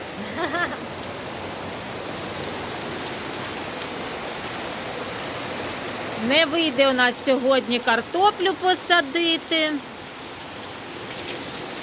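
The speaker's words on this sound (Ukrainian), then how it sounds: "а тут град пішов" Steady hiss of hail pelting a surface throughout, with a person speaking briefly over it near the middle.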